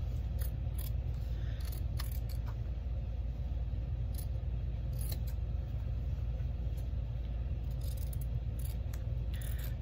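Fabric being snipped with scissors during a home sewing session, a series of brief crisp cuts scattered over a steady low background rumble, fairly close and without talk.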